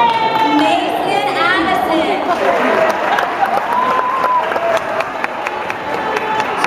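A large graduation crowd applauds steadily with shouts and cheers rising over the clapping, loud and close, with chatter and nearby voices talking throughout.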